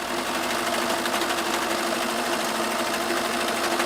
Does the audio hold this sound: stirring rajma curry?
no